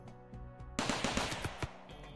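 Turret gunfire in RimWorld: a fast burst of sharp rapid shots bursting in after a softer opening, dense crackling reports lasting about a second and a half, with no talk.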